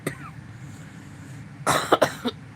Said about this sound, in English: Excuse me, man, this cough.